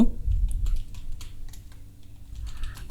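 Someone types an AI prompt on a computer keyboard, a close, steady patter of soft key clicks with a low background hum and no voices.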